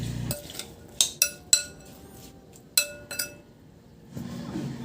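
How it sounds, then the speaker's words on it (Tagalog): Utensil clinking against a bowl while marinade ingredients are stirred together for grilled bangus, a string of sharp metallic taps and scrapes between quiet pauses. "Ihalo lang, imimix natin para lahat nating ingredients magmimix."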